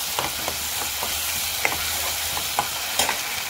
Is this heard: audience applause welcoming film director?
no